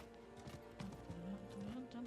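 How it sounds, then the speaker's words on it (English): Clip-clop hoofbeats of a horse mount galloping in the video game Diablo IV, a steady rhythmic run with a brief whinny over game sound, moderately loud throughout. "What kind of horse are you running?"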